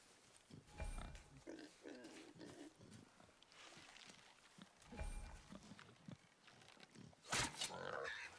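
Grunting, snorting squeals from a wild boar during a hunt in God of War (2018), several rough bursts spread across the scene, with a sharp louder burst near the end and faint voices in between.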